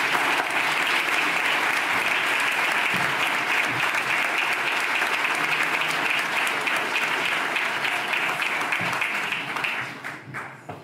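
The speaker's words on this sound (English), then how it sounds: "I please encourage all of us to offer a warm Rodale Institute welcome to Dr. Zach Bush." Audience at the Rodale Organic Pioneer Awards applauding to welcome a keynote speaker: dense, sustained clapping from a large indoor crowd, steady and loud for about ten seconds, then fading out at the end.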